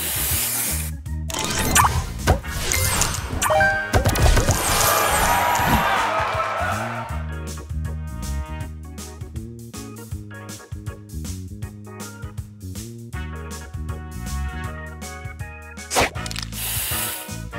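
The spray booster effect in the Match Masters puzzle game bursts out as a loud whooshing hiss over bright, chiming game music, then gives way to the ongoing tune with plinking effects.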